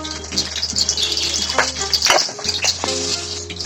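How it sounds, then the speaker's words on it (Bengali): Green chillies and nigella seeds sizzle in hot oil for a fish and posto dish, giving a steady, close, crackling fry with a faint low hum underneath. "তেলের মধ্যে আমি কাঁচা লঙ্কা কটা ফোড়নে দিলাম। এবার একটু কালো জিরা দিয়ে দেবো।"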